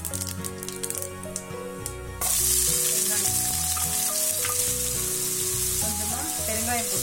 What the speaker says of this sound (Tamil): இப்போ கடாயில் நம்ம தாளிச்சிடலாம்.